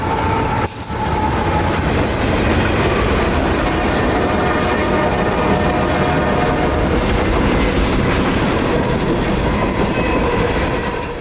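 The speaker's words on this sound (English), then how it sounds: "Q441-16, a nightly mixed freight train out of Waycross, Georgia down to Tampa, Florida" A nightly mixed freight train running from Waycross, Georgia toward Tampa, Florida passes close by with a loud, steady roar and clattering wheels on rail. A faint wheel squeal sounds under the rumble, which holds its level for the whole pass.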